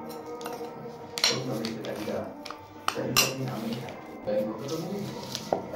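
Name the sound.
mixing sugar and ingredients together in a bowl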